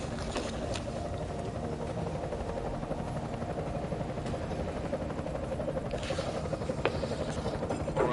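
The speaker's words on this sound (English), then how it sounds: "Enemy helo sighted." An enemy helicopter in the video game Deus Ex: Mankind Divided gives a steady, dense rotor drone that holds at a constant moderate level throughout, with no talking over it.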